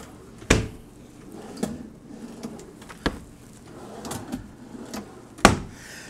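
Drawers on hotel room furniture in a Luxor Pyramid Premier Corner Suite open and shut in a few sharp, close knocks and thuds, spaced irregularly with quieter handling between them and no voices.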